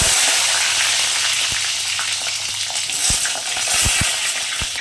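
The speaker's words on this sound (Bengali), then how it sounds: "উচ্ছেগুলো একদম ডিপ ফ্রাই করে নিচ্ছি" Bitter gourd pieces deep-fry in hot oil with a loud, dense, continuous sizzle, punctuated by a few sharp knocks and taps from the utensil.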